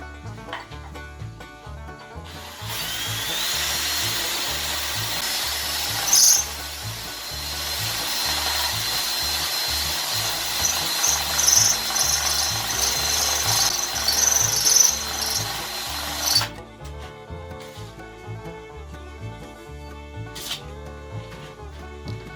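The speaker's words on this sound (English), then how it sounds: "I just put a little dowel in the drill and see." A power drill spins a small wooden dowel against an old Craftsman benchtop sander to clean it, whirring loudly and steadily for about fourteen seconds with rubbing scrapes, then cutting off abruptly.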